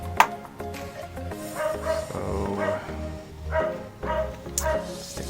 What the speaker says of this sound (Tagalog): sorry kung maingay yung aso ng kapitbahay namin